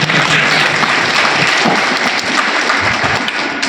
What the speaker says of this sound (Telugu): వాళ్ళిద్దరు కూడా గట్టిగా చప్పట్లు కొట్టండి